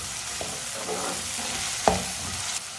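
Tomatoes and finely chopped green chili cooking in a pan give a steady sizzle, with a spoon scraping and stirring through it and one sharp clack near the middle.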